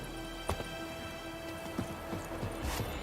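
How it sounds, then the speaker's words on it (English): Horse hooves in The Witcher 3 video game clop in a few sparse, soft strikes over a steady ambient bed, moderately near, with no talking. "Whoa there, Roach."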